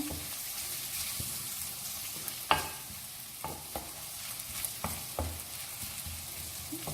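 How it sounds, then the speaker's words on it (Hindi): Green onions frying with spices in a pan for baingan bharta, a soft, continuous sizzle punctuated by several sharp spoon knocks and scrapes against the pan, close and moderately quiet. "इसे मसाले के साथ मैं फ्राई करूंगी।"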